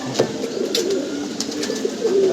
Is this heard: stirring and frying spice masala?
no